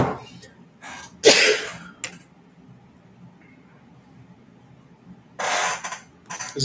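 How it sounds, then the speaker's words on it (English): A single person's sneeze indoors: a sharp, loud burst with a short build-up and a brief catch after, followed by quiet and a couple of later breathy bursts. "I gotta sneeze."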